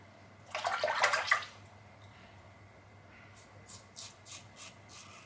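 A Laugar of Sweden Alfdans safety razor with a Homelike Colibri 1.1 blade gap plate is rinsed under a tap: one short, close rush of running water, then a few soft taps and drips alone.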